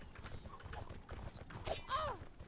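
Horse hooves clip-clop in a video game battle royale, Mortal Royale, a quick rhythmic trot followed by a short neigh, fairly faint and mixed with other game sounds.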